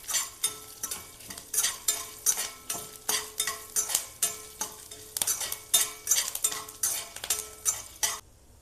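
Coriander seeds, dried chillies and curry leaves being fried and stirred in a pan, with a steady run of rhythmic scraping strokes roughly twice a second over a soft sizzle.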